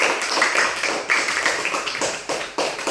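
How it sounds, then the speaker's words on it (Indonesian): A classroom audience claps for a student group after its presentation on making a magnet: a dense, steady patter of many hands, close and fairly loud, with no speech over it. "berikan aplaus untuk kelompok"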